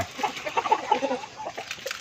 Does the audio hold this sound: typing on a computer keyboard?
no